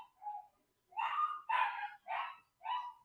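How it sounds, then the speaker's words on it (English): A dog barks in the background: about five short, sharp barks in an uneven run, moderately loud and somewhat distant, with no talking over them. "Do y'all hear my dad's dog in the background?"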